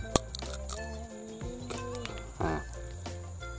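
A dried coffee bean cracks between the teeth in a sharp, close snap, followed by small crunching clicks over a faint insect-like background buzz.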